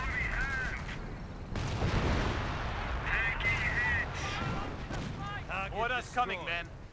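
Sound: artillery fire in the video game Company of Heroes

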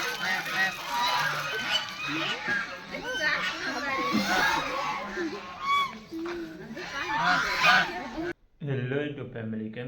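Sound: geese honking

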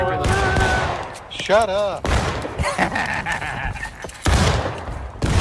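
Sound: musket gunfire in War of Rights video game

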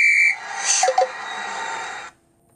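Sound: whistle being blown

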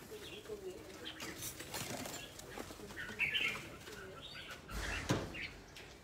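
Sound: bird flapping wings and cooing

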